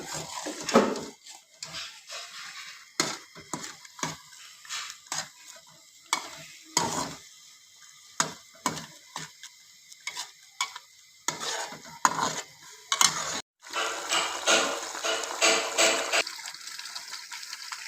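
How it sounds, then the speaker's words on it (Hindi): Pigeon meat mixed with turmeric powder is stirred in a cooking pot, giving repeated scraping and clinking strokes of a spoon over a soft sizzle, with no voices. "अब इसको अच्छी तरह से मिक्स करेंगे।"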